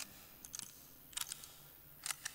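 Rifle reloading in the Vietnam War shooter Rising Storm 2: Vietnam: three clusters of crisp metallic clicks and clacks, fairly quiet, over faint background hum.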